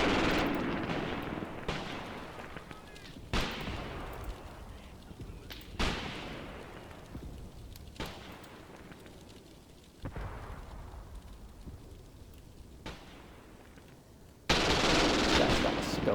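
Gunfire and artillery from a Soviet attack in a WWII Eastern Front video game, 1943 setting: sharp booming blasts every couple of seconds with rattling machine-gun fire between, loud and close, ending in a dense roar; someone talks faintly at times.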